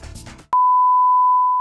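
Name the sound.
simulated tinnitus ringing tone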